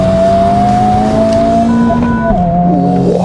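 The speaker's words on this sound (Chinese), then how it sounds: "红章的本田配红头的引擎" A Honda Civic Type R with its K20C1 engine revs loudly and steadily, the pitch holding and then climbing sharply toward the end, with no voices.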